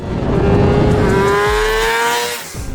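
The engine of a 2024 Kawasaki ZX6R supersport motorcycle revs high and loud with a rising whine that holds, then fades near the end.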